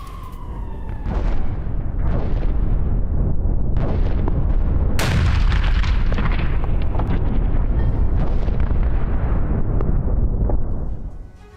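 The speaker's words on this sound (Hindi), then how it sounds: "निकोलेव में रूसी सेना ने मिसाइल हमले किए हैं।" Russian missile strikes in Mykolaiv produce a sequence of heavy explosions, several booming blasts followed by a loud sustained roar and rumble that slowly fades out.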